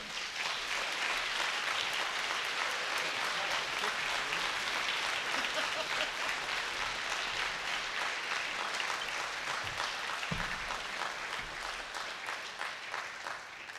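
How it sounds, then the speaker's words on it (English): An audience applauds for kids, mentors and leaders at a live trombone workshop, a steady, dense wash of clapping that carries on for the whole stretch and thins a little toward the end. "give a great round of applause for your kids, for these mentors, and for these leaders"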